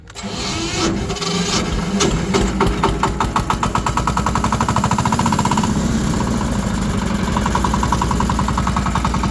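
A tractor engine runs as the machine drives off, a loud, close, rapid chugging whose beat quickens and steadies into an even throb, with mechanical clatter over it and no talk.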